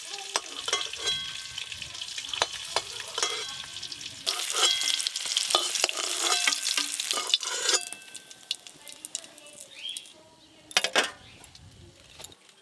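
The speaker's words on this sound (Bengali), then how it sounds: "হলুদ গুঁড়ো, ডিমগুলো ভালো করে ভেজে নিলাম।" Eggs coated with salt and turmeric powder fry in a pan, with crackling sizzle and repeated metallic stirring clinks close by, loudest midway then fading to scattered taps.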